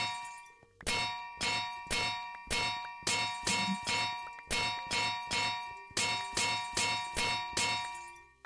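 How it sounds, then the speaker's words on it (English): In a video game, a hammer strikes glass yet gives the metallic clang of an anvil. The blows come as a regular series of about thirteen sharp, ringing hits, each one decaying before the next, with no talk. "Why does the hammer, while hammering glass, still make the anvil noise?"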